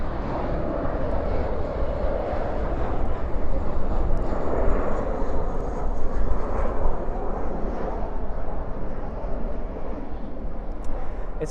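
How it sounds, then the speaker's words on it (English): An airliner landing at night at Dallas Fort Worth with spoilers up and thrust reversers deployed, a loud, steady jet rumble and roar lasting throughout, with faint talking mixed in. "Spoilers up, reversers down."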